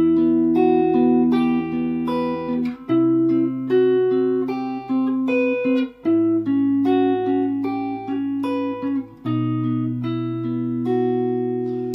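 Fingerstyle guitar playing the intro to a song, with arpeggiated notes ringing over held bass notes that change every few seconds, loud and close with no talking.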